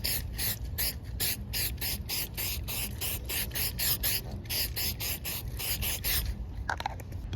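A plastic razor blade scraper works vinyl wrap adhesive off the roof of a Subaru WRX in rapid repeated scraping strokes, a steady rasping rhythm close to the surface, with no talk.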